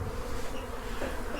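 Digger bees buzz in a dense, steady drone, close and continuous throughout, with no voices over it.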